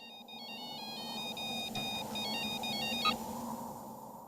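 A mobile phone ringtone plays a repeating high electronic melody for about four seconds over a low background hum, during a tense climax scene in an Indian action film.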